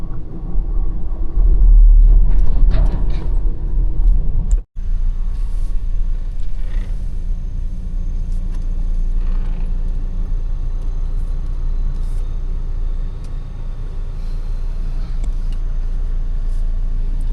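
A transport truck rumbles past on a road near the Mekong, its low engine drone loud and close at first, then a sharp break followed by steady fainter road and wind rumble.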